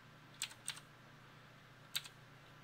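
Keys tapped on a computer keyboard while entering a command to flash the BIOS of a 290X graphics card: a few quick, light keystroke clusters, close and quiet, separated by short pauses with no talking.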